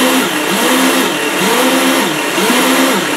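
Motors and upgraded gears of a 24 volt Power Wheels ride-on, running here on a regular 12 volt battery, whine loudly and steadily up close, with a repeating rise-and-fall cycle in pitch about every second.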